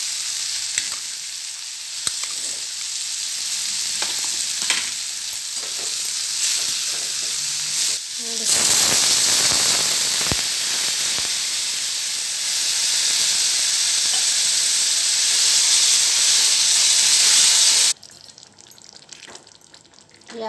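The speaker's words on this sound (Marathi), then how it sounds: "यामध्ये आता ह्या शेंगा चांगले शिजू द्यायच्या" Cluster beans (gavar) cook in a pan with roasted peanut powder, giving a loud, continuous sizzle and hiss with some stirring. The sizzle swells midway and then stops abruptly near the end.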